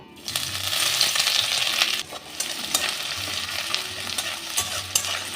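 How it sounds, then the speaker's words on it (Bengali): Chopped ginger, garlic and green chilli sizzle steadily in hot oil and ghee for Kolkata-style chowmein, with close scraping stirs and light metallic clinks of a spoon against the pan throughout. "এই চপ আদা রসুনটা আমি একটু ভালো করে ভেজে নেব"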